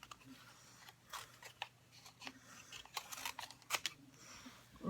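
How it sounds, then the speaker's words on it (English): Scissors cut paper in short, quiet snips and crisp slicing strokes, close up and irregular, with the paper rustling softly as it is turned between cuts. "taking my scissors and cutting as I'm moving the paper."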